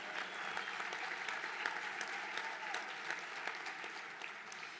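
Crowd at an NFCA Hall of Fame induction ceremony clapping in an even, sustained wash of applause that stays fairly distant and soft throughout, with no voices over it.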